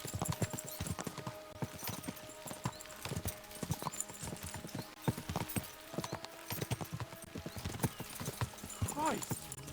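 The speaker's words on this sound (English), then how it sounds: "We should spur the horses on." Horses gallop in the medieval game Kingdom Come: Deliverance II, with a fast, close, steady clip-clop of hooves, a brief whinny, and voices talking over the ride.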